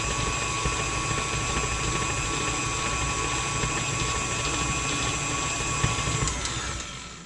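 Electric hand mixer beating cookie dough with vanilla pudding mix for M&M pudding cookies, a steady continuous whir and rattle running loud and unbroken throughout, easing off at the very end.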